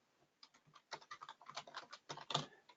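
Someone types a search term on a computer keyboard, a run of rapid, uneven key clicks lasting a few seconds, close and quiet with no talking.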